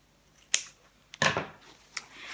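Scissors snip through elastic in a few sharp, close cuts, with a couple of separate crisp snips spaced over a quiet background.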